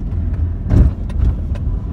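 A car drives along a road between Majo Lekki Homes and the Free Trade Zone Road, a steady low engine and road rumble with a brief swell as something passes close by.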